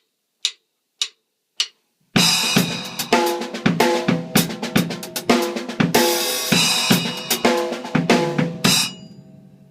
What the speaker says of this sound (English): Funk is a heavily syncopated rhythm